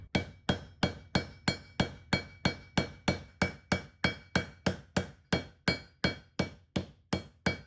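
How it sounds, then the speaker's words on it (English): A ball peen hammer strikes metal rivets in a fast, even rhythm, about twenty sharp ringing blows in a row, close and loud with no talking. "Now I'm just going to come in with the ball peen hammer and peen these over."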